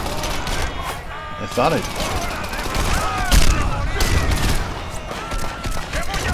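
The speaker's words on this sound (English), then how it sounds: "Here, chuck a freaking grenade." Bursts of gunfire and explosive booms crackle through a chaotic firefight in the Crackdown game, with a heavier blast near the middle, mechanical clatter between shots, and someone talking over the din.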